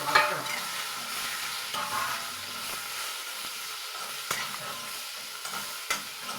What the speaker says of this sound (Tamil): அந்த முள்ளங்கியை நெருக்கி வச்சுக்கிட்டு அதில் போட்டு நல்லா வதக்கணும்